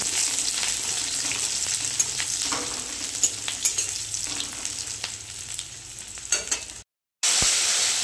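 Black cumin (nigella) seeds sizzle loudly in hot oil for a poppy-seed paneer dish, a steady crackling frying hiss with small pops that cuts off briefly near the end before resuming.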